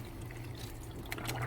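Water runs and trickles steadily while flushing the defrost parts of a Mitsubishi refrigerator with an ice blockage, with a low hum beneath and a few brighter splashes near the end.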